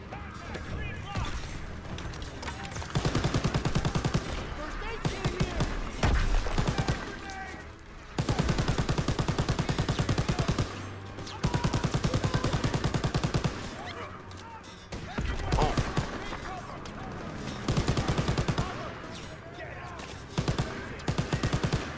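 Rapid machine-gun bursts from a half-track-mounted MG in a WWII video game battle, loud repeated volleys in several stretches with brief pauses, layered with other gunfire and shouting voices.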